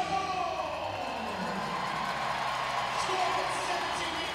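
A big crowd at a Utah Grizzlies minor-league hockey game against the Thunder fills an arena with a steady roar and murmur, heard under a broadcast voice.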